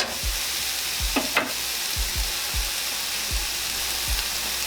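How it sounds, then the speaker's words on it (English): Mushrooms and onions frying in a pan for beef stroganoff, a steady low sizzle with several soft utensil knocks and scrapes spread across it, no talking. "And what we wanna do is cook the moisture out of these mushrooms."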